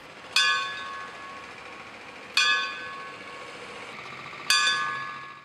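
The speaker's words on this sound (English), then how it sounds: "The station bell rang." A fire station bell strikes three times at slow, even intervals during a 9/11 remembrance ceremony, each ringing tone lingering and fading before the next strike, with no talking.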